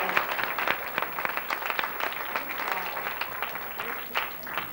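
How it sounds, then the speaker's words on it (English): A live studio audience at the Nickelodeon Studios theme park in Florida claps steadily in dense, continuous applause that holds at an even level throughout, with a faint voice underneath. "Give them a big round of applause"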